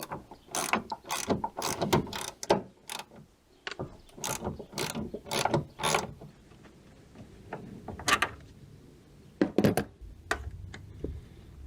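A ratchet takes bolts off a jerry can mount on an FJ Cruiser, giving close, loud bursts of rapid clicking, repeated many times with short pauses, and no voices.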